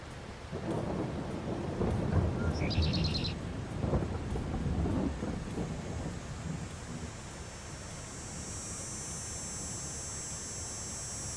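Thunderstorm rain in Farming Simulator 22 on the Emerald Coast map, with a steady hiss of rain under deep rolling thunder that builds, peaks and fades, followed by a thinner high tonal hum later.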